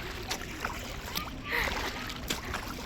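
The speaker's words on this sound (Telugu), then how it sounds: "పడవ ప్రయాణం చేస్తాం ఫ్రెండ్స్." A kayak paddled on a lake in Bangalore, with soft rhythmic dips and light splashes of the blade under a constant watery wash, close and fairly quiet.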